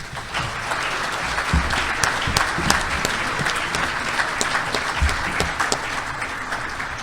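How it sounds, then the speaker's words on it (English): Steady applause from the audience honouring the guests at the close of a climate and resiliency innovation discussion session, dense and sustained clapping filling the room for several seconds without speech. "please give us a good round of applause for our guests"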